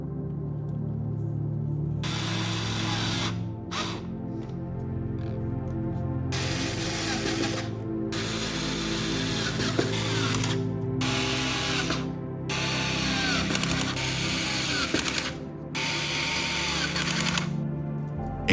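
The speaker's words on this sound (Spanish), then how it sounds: "Atornillamos los soportes a la madera." A power driver screws metal brackets into wood for a homemade portable air conditioner, giving loud, sustained whirring bursts of several seconds each, separated by short pauses.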